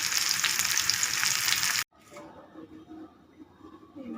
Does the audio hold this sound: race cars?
no